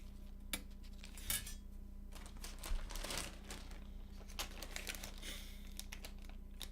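Typing on a Matrix Abel+ custom TKL mechanical keyboard: scattered clacky keystrokes and a few louder thocks, faint and close, with no talk over them.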